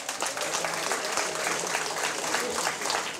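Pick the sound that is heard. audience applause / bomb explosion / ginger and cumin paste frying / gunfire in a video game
audience applause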